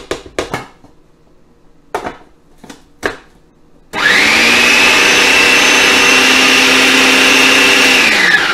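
Falafel mixture is chopped in a food processor, with a few clinks and taps before the motor kicks in and runs loud and continuous to the end.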